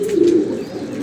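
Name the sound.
pigeons cooing as they are released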